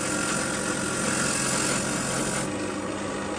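A dull grinding wheel runs under light pressure against a magnesium chainsaw part, giving a steady, loud, even whir with a faint raspy edge that shifts slightly in tone near the end.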